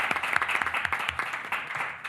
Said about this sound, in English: So please help me in a round of applause.